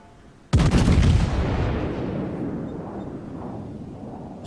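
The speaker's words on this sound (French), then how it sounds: "Et la salve est belle." Naval gun salvo in World of Warships, a sudden loud heavy boom that rolls out into a long, slowly fading rumble with no talk over it.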